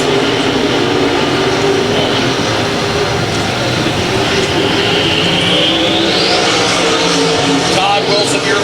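Race cars roar around the I-35 Speedway oval in a dense, continuous drone of several engines, with a rising pass near the end, while a track announcer talks over the racing.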